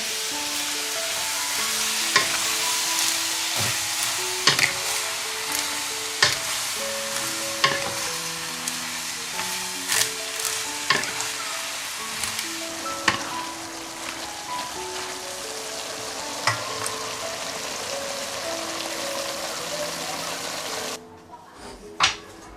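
Vegetables, bean sprouts and soaked dried greens among them, crackle in a pan over a steady sizzle while they are stir-fried and tossed, with repeated scraping clicks of the spatula and faint background voices. The sound stops abruptly near the end.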